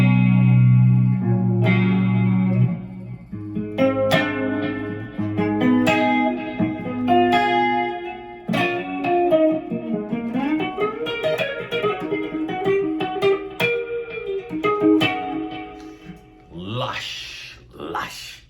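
A clean electric guitar played through a Laney 50-watt reverb head rings out in lush single notes and chords with a reverb tail, loud and close with no talking, ending in a few brief scratchy string noises.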